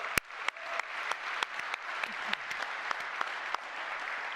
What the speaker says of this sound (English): give a round of applause so loud that they can hear it as a thank you